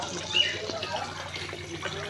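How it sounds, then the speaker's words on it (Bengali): Water swirling in a bucket before watering rooftop garden plants, a soft continuous sloshing and trickling heard fairly close and quiet, with no talking. "দেখেন পানির শব্দ, পানি ঘুরাচ্ছিলাম যেহেতু পানি দিব গাছগুলোতে"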